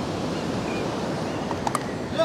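Sea waves wash onto a beach in a steady, close rush of surf that covers the whole stretch, with a few faint brief sounds near the end.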